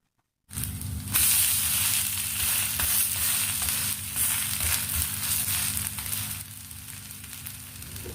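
Tapioca adai, a Kerala-style maravalli kizhangu flatbread, fries in a pan with a loud, steady sizzle that starts abruptly and carries on unbroken, with no voices.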